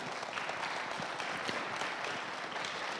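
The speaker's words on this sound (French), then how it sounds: "on vous applaudit, merci beaucoup." Steady audience applause after a conference session, a continuous wash of clapping at moderate level with no talk over it.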